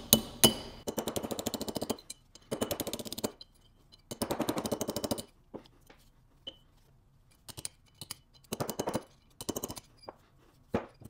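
A punch hammers sheared roll pins out of an Evo transmission differential, with loud, rapid bursts of metallic rattling chatter in several separate runs, broken by sharp single strikes and short pauses.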